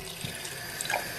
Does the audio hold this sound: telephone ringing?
no